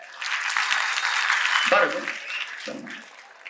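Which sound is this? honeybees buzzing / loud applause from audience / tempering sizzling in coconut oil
loud applause from audience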